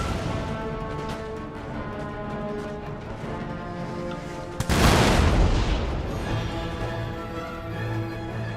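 Musket volley fire in the Empire Total War strategy game, a sudden loud crashing burst of massed shots midway that spreads into a rolling roar and slowly fades under a sustained musical score.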